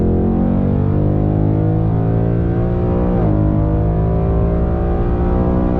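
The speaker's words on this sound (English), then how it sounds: "When you put your foot down, you will get sucked in the back of your seat." 2020 Ford Mustang GT with a Ford Performance calibration kit accelerating hard, a loud, continuous V8 roar with rising engine harmonics, a brief dip as it shifts gear mid-pull, then climbing again.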